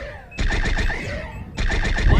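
Phaser fire from a starship in the Star Trek Bridge Crew video game: two sustained, loud bursts of pulsing energy-weapon fire, the second following after a short gap.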